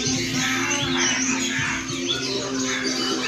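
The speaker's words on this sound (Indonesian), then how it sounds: "Nih, burung-burung kecil, burung-burung masteran." Small songbirds at the Depok bird market in Solo twitter and chirp continuously, many overlapping calls over a busy background murmur with faint low hum.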